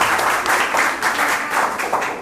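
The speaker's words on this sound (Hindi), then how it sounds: "मैम के लिए भी एक जोरदार ताली होनी चाहिए।" Audience applause at a Hindi GK quiz competition styled like a TV game show, a steady wash of clapping swelling and easing over a couple of seconds with no speech on top.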